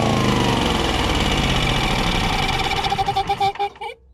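A damaged small motor runs loudly at a rough, steady roar, then sputters, surges unevenly and dies out in the final second, close by with no talk.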